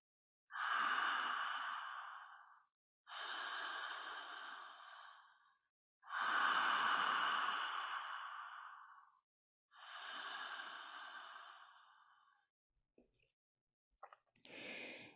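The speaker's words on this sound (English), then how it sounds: "There's a silent ah on the inhale and silent ha" Slow, audible breathing in the aha breathwork style, with four long drawn-out breaths, each a gentle airy inhale or exhale, quiet and close, followed by a few faint clicks.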